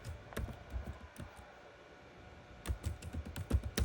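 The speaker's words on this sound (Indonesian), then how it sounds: "Di form sebelah kiri saya coba masukkan NIM 22001 dan namanya Virel." Rapid keystrokes on a computer keyboard while data is entered into a form, bursts of close clicking taps, a pause in the middle, then a quicker run of typing.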